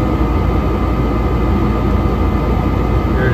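A Trane gas furnace's blower motor runs before ignition, giving a loud, steady, continuous whoosh and hum that holds unchanged throughout with no speech.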